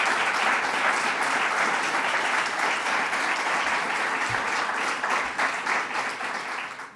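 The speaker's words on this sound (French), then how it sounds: "je crois qu'on peut applaudir le groupe qui fait l'acquisition de l'Hôtel Victorin aujourd'hui" A crowd at a business event applauds the group acquiring Hôtel Victorin, sustained, dense clapping from many people that stays strong before tapering slightly toward the end.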